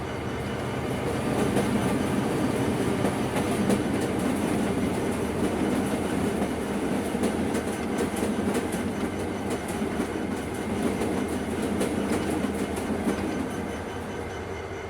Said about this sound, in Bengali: ওই যে সামনে থেকে যমুনা এক্সপ্রেস আসছে